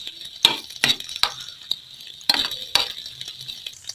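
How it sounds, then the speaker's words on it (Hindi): Garlic and green chilies sizzle steadily in oil in a pan while a utensil scrapes and clinks against the metal in quick, irregular strokes, close by. "इसे हल्का सा फ्राई कर लेंगे।"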